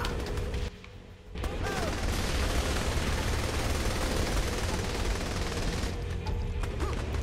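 Dense, continuous gunfire and booming explosions from Saints Row 3 fill the clip, loud and sustained after a brief dip near the start.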